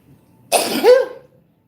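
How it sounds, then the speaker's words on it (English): A single sudden sneeze bursts out close by, a sharp explosive burst with a brief voiced tail, surrounded by near silence. "I have a sneeze coming."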